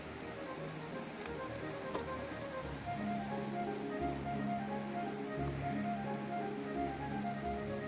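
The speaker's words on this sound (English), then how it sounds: "You can see there's more waterfalls up there." Continuous rushing water from a waterfall along a Mount Whitney hiking trail, a steady broadband roar without breaks that sits at a moderate distance and stays even throughout.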